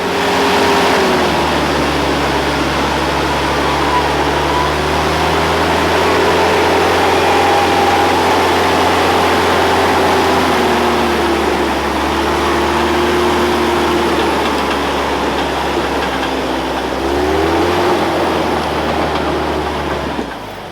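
An off-road 4x4 engine strains while climbing a slippery hill on abandoned forestry tracks with a winch, a loud, steady drone whose pitch rises and falls slightly under load, close and continuous with no talk.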